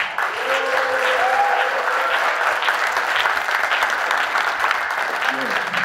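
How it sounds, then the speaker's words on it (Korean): Large crowd applause at a party founding convention approving the agenda, steady dense clapping filling the hall throughout, with a few faint voices and a brief tonal sound mixed in. "반대가 없으시면 큰 박수로 승인해 주셨으면 고맙겠습니다."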